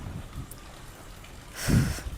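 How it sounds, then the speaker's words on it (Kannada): Heavy rain pours down during a thunderstorm, a steady close hiss of downpour with a brief deeper rumble partway through; no one speaks. "ಈಗ ನೋಡಿದರೆ ಇಲ್ಲಿ ಧಾರಾಕಾರವಾಗಿ ಮಳೆ ಮತ್ತು ಸಿಡಿಲು."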